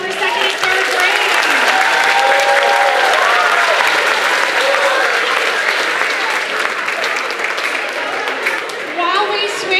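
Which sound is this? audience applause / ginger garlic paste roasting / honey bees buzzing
audience applause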